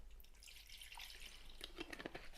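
Water runs into a cooking pot holding a tin can of candle wax, a continuous trickling and splashing fill heard close by, with brighter sloshing toward the end and no voices.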